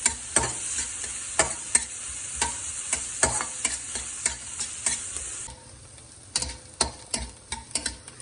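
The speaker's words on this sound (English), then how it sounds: "I'm going to tip in onions, saute them for 2 minutes." Onions sautéed and stirred in a pan, sizzling steadily with repeated sharp scrapes and clicks of a spatula against the pan, close and fairly loud; the frying hiss drops lower partway through while the stirring knocks carry on.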